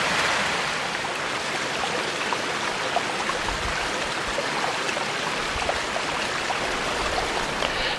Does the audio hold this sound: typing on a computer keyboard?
no